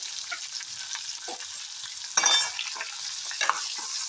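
Two onions fry in ghee and hot oil in a pan with whole spices for a green chickpea pulao. A soft, continuous sizzle is broken by brief louder bursts as the pan is stirred, with no talking.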